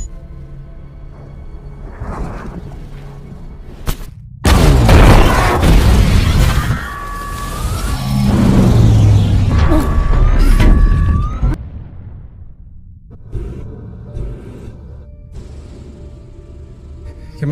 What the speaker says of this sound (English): Bomb set.